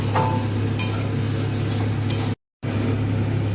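Spices for a cauliflower and mushroom curry sauté in a pan over low-to-medium gas flame, a steady sizzle with occasional clinks of the stirring spoon, broken by a brief silent gap.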